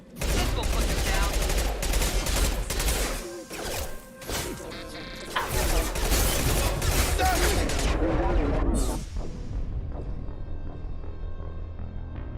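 Dense, continuous rattling gunfire and crashing impacts from a machine pistol in the video game Mass Effect Legendary Edition, a chaotic combat barrage that tapers off near the end.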